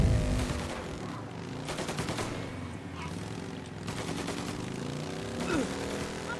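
Rapid bursts of gunfire in Mafia Definitive Edition, clustered volleys of shots repeating over a steady background of game sound.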